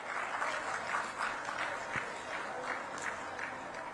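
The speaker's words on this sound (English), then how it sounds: "A big round of applause for him." Steady audience applause at a telecom industry conference in India, many hands clapping together at a moderate distance, fairly faint and continuous, with no talk over it.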